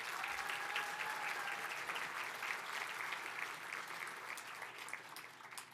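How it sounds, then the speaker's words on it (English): An audience at the 2023 Solar Decathlon winners announcement applauds the graduating students with continuous, even clapping that stays fairly faint and distant throughout. "round of applause to the students graduating"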